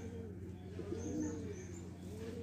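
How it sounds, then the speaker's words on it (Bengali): A Jalali pigeon coos softly in a low, rolling murmur, faint and close against a quiet background with light bird chirps. "বললো জালালি কবুতরটা এসে পড়ছে"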